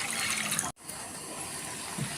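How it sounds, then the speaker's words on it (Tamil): Water pours steadily into a pot for boiling noodles, with a brief break partway, a close, continuous splashing trickle without any talking. "இதில் வந்து தண்ணி ஊற்றிக்கலாம்."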